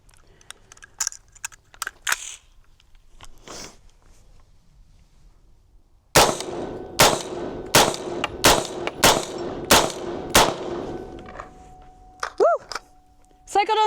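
Wet 5.56 rounds fire in a rapid string of about eight sharp, loud shots, after a few faint clicks and handling noises, with brief talk before and after.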